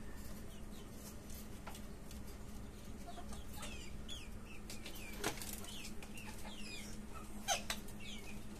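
A deshi rooster of about seven months on a rooftop poultry farm gives faint clucks and brief wing flaps against a quiet outdoor background.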